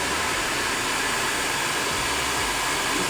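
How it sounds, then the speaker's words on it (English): A hair dryer blows steadily through a lace wig with a constant, loud airy whoosh throughout, no voices. "get your blow dryer, and blow those hairs through"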